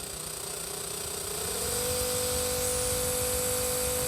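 A Berdair air pump driven at full power by an adjustable PWM signal generator hums steadily and loudly, its pitch rising over the first two seconds and then holding a constant tone with a high whine above it.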